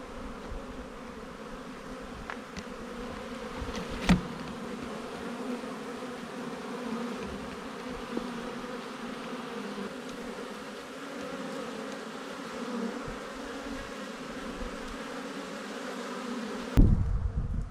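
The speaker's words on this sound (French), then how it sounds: "belle activité aussi des abeilles" Honeybees buzz steadily around a hive in a sunny apiary, a continuous close, even drone of many wings with occasional louder passes and a brief rustle near the end.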